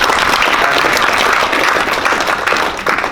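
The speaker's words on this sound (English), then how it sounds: "I think that's worth a round of applause." An audience at a workshop claps in steady, dense applause that fills the room and tapers slightly at the end.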